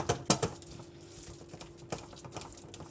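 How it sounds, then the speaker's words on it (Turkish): A metal spoon clinks and taps against a pot while mashing hot lentil soup, a few sharp knocks at the start and more scattered light scrapes and taps after. "kaşık yardımıyla ezmeye çalışıyorum"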